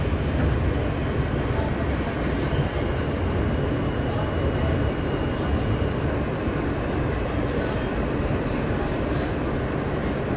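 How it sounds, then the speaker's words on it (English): Steady loud rumble and rattle of a New York subway F local train bound for Coney Island running along the tracks, continuous roar throughout with no clear speech. "This is Coney Island, Newell Avenue bound F local train."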